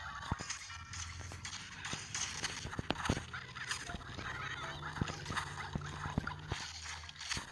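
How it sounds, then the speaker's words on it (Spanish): Chickens in Plants vs. Zombies 2's Wild West world cluck and squawk in a busy burst, mixed with sharp clatter and clopping knocks that continue throughout. "Dios mío, estas gallinas, ¿qué les pasa?"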